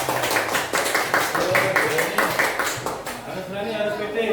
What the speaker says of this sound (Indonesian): saya tepuk tangan dulu untuk kelompok 1